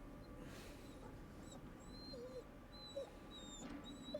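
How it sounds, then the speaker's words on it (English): In the horror video game The Devil in Me, a dog whimpers in a series of thin, high whines that come and go over a low, droning background, quiet and somewhat distant. "it's probably the dog that we... Whimpering."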